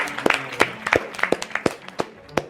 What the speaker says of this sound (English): Okay, what a wonderful round. A round of applause.